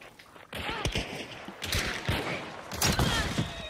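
Video game firefight on an extraction mission, with bursts of gunfire and scattered shots crackling close and loud for several seconds, under a busy mix of thumps and footsteps.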